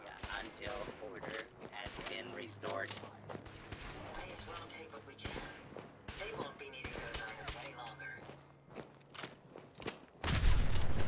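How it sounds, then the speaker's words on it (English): A trap set off in the video game Fallout 4 ends in a massive explosion: a sudden loud, deep boom near the end, following a stretch of busy combat noise with gunfire and footsteps. "That explosion is massive."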